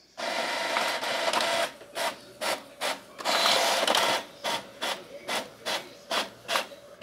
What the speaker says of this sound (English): Actually, it prints pretty quick.